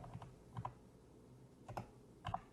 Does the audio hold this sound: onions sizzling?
no